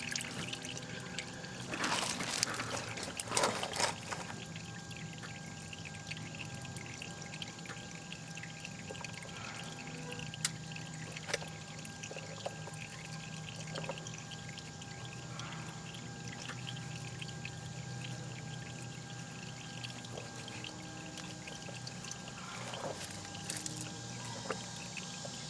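Used black engine oil drains from a 1999 Toyota Corolla in a faint, steady trickle, with a few light clanks and knocks scattered through it.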